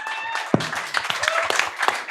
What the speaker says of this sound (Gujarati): તાળીઓ થઈ જાય ગૌરાંગ માટે.